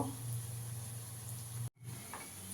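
Boras, raw banana fritters, fry in oil over low heat, a soft steady sizzle with a low hum underneath, broken by a brief moment of silence before the faint bubbling resumes.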